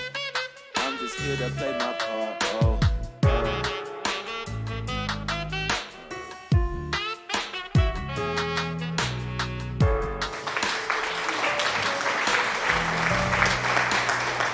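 Clapping and cheering from a live listening-party audience swell at the end of a song, the crowd noise rising loud and continuous after the music drops away.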